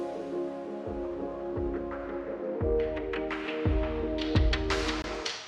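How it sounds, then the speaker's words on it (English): Pre-chorus drums from a modern metalcore synthwave production, with an automated filter sweep rising over sustained synth tones; kicks and snares hit at regular intervals while the sweep brightens toward the end, no voices. "let's check out the intro, when we have the same pre-chorus drums, but with a sweep on top."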